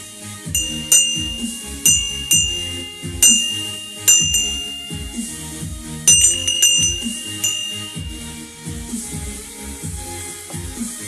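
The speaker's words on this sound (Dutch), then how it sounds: "Ik heb een speciale bel." A special bell rung over and over, each clear metallic strike ringing out and decaying in a steady, regular rhythm, close and loud, with no talking.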